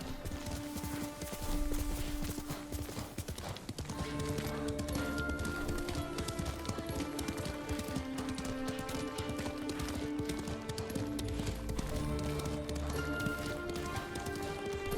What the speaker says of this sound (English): We'll need a horse to navigate to an island, right?